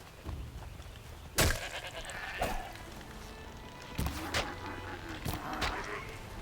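Goats bleating in the video game Horizon Zero Dawn, set among a herd near a camp in the frozen wilds: several short, faint bleats scattered over a quiet ambient background with occasional soft thuds.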